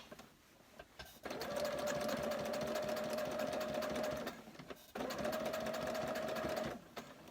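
A sewing machine stitches silk trousers in two sustained close runs of steady whirring and rapid needle clatter, separated by a brief pause, with no one speaking.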